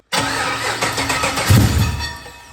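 An LS3 V8 engine cranks and catches abruptly, then roars loudly with a brief surge of revs before settling into a rough, rumbling run, close and alone.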